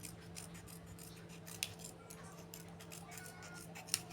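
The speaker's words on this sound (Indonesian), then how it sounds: "Kemudian kita akan gunting menurut garis ini ya" Scissors snip through a plastic soda bottle being cut into a decorative flower, with soft repeated cutting crunches, two sharper clicks and a low steady hum in the background.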